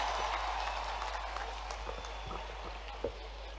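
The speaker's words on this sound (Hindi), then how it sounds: "जोरदार तालियां" An audience applauds silver medalist wrestler Ravi Dahiya at a state honour ceremony for Olympic champions, a fairly faint, steady patter of clapping over a low constant hum, with one sharper knock near the end.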